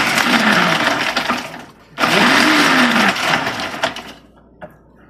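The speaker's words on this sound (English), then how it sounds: "We're gonna whack them in the food processor and then take out the things." A food processor blade whirs loudly as it chops garlic cloves for homemade falafel, two long bursts split by a brief pause near two seconds, then the motor winds down and a small knock follows.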